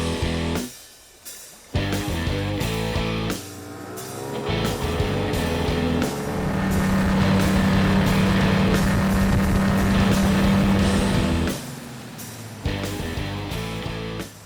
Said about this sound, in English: You know what I love about that Evinrude G2? It's a two-stroke.